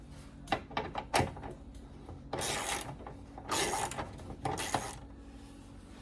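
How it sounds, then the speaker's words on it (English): A door bolt is tightened on a 1972 VW Super Beetle, with a few metallic clicks and knocks, then several bursts of rough ratcheting and grinding from the tool, close up and without talk. "Okay, now we got to get the bolt down here. All right, we'll tighten her up."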